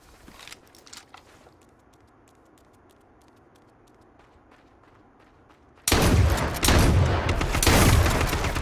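Gunfire in the battle royale game H1Z1: a burst of rapid, loud shots and booms erupts partway through after a quiet stretch of faint footsteps and a few distant pops.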